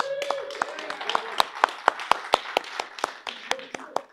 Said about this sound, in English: Can we give all the volunteers a round of applause?